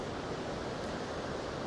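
A flowing river in a wooded Adirondack gully gives a continuous, even rushing wash, soft and steady with no breaks or voices.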